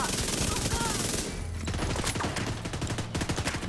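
Automatic weapon fire in the video game The Division 2, rapid bursts of gunshots rattling out in quick succession, loud and continuous across the short stretch with a dense, crackling texture.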